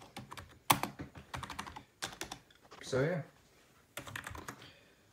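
Fingers type on a gaming bundle keyboard fresh from its box, short bursts of close, crisp key clatter broken by pauses, with someone speaking briefly in the middle.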